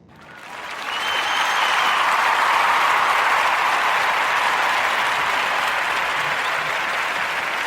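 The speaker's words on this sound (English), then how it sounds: "give a warm Narrative Podcast round of applause for Malcolm Jamal Warner" A podcast audience breaks into warm applause that swells within a second and holds as a dense, even wash of clapping for several seconds without voices.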